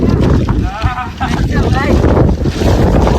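Loud, buffeting wind roars across the microphone with a low rumble at Junagadh in rainy weather, and a voice speaks briefly through the gusts.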